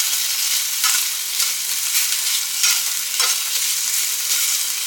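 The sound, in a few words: cooked chicken being heated in a pan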